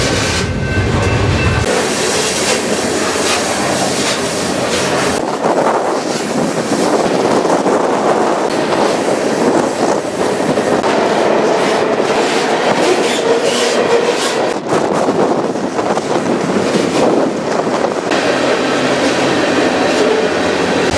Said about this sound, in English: I don't know how frequently this Houston to Tulsa train runs. That's the one I'm on right now.